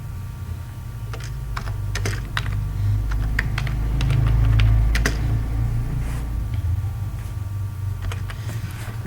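Someone types a file name for a Microsoft Word document on a computer keyboard: a steady run of close, crisp key clicks over about nine seconds with a low background hum and no talking.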